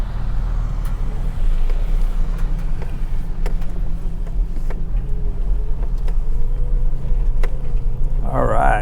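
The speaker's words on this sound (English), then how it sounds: "Got an RV coming. Let this dude mosey on by." An RV rolling past on a desert trail in Coyote Canyon, Anza Borrego, its engine and tyres rumbling close by at a steady level, with a brief clatter near the end.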